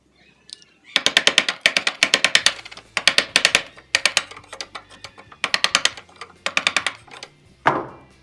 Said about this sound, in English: I'm just going to work my way into the center. Turn it around before I get to the other end.